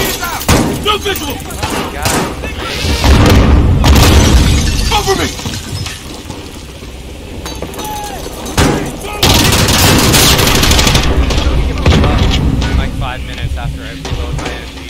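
Loud, chaotic bursts of explosions and rapid gunfire with shattering debris inside a hospital in the video game Call of Duty: Modern Warfare (2019), while voices talk over the din.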